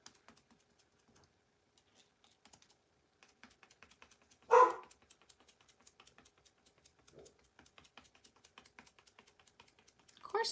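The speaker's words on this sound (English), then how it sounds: "Of course the dog's going to go crazy now." A dog barks outside while a wooden mailbox is being painted: one loud, close bark midway, then a couple of fainter barks later, over light tapping and clicking noises.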